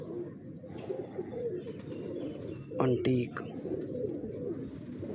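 Breeder pigeons coo softly and repeatedly in the background while someone talks over them, with a brief, sharper burst of bird calls near the middle.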